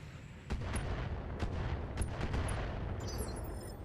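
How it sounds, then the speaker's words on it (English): Mortars fire in a video game battle, a series of distant booming thumps over a constant rumbling din, spaced irregularly and moderately loud, without speech. "Amazing mortars."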